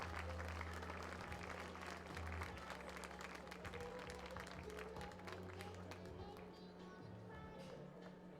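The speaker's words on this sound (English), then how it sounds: "he gets a good round of applause from the fans and the heads up from his teammates" Baseball fans at a Sylvan Lake Gulls home game clap as starting pitcher Garrett Lundmark leaves the mound; distant, diffuse applause runs throughout, faint under steady low hum of the ballpark.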